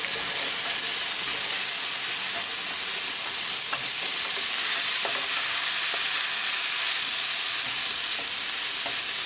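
Urad dal stirred in a covered pot after five minutes of cooking over medium heat, a steady close sizzle and hiss with soft, scattered scraping throughout.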